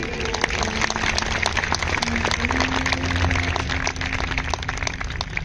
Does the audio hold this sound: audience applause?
yes